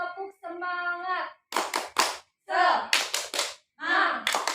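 A primary school class does a rhythmic spirit clap, with quick bursts of sharp, patterned hand claps alternating with children's voices chanting in unison, close and lively.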